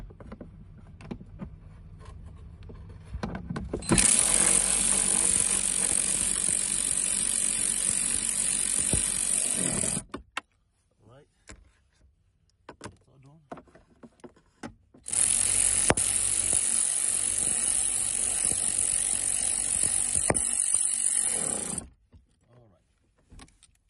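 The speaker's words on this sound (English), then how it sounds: "Using our 10mm ratchet" A 10 mm ratchet secures the airbag module in a Nissan Frontier, heard as two long, loud, continuous runs of rapid clicking close by, separated by quieter handling noise.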